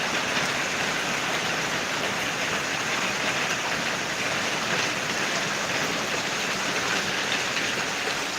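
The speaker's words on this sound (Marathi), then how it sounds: "बराच वेळ झाला पाऊस पडतोय" Heavy rain pours steadily in Kerala, a dense, even hiss of falling water that stays loud and unbroken throughout, with no voices.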